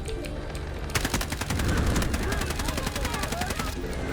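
Rapid bursts of automatic gunfire in the Delta Force video game, starting about a second in and continuing loud and close, with a voice talking over the shooting.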